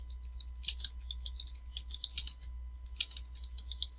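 A search is typed on a computer keyboard, quick irregular key clicks in short bursts with brief pauses, close and fairly quiet, over a steady low hum.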